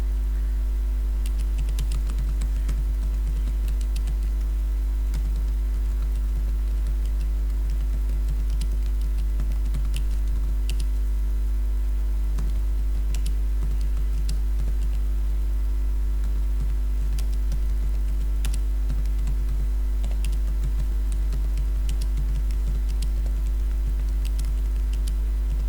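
Someone types on a computer keyboard, a long run of light, irregular key clicks over a constant low electrical hum, with no speech.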